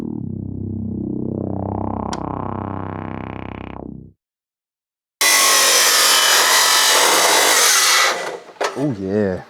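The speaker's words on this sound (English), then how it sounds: "We're cutting up the screamer pipe" A loud power saw grinding through a metal exhaust pipe, a rising whine then a pause, followed by a harsher sustained cut close by.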